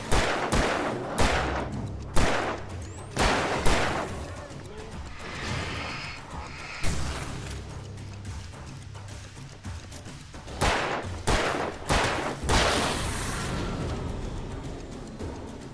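Gunfire in the video game Alan Wake Remastered: a series of loud, sharp shots in irregular bursts with short gaps between, close and punchy, with a voice briefly reacting between them.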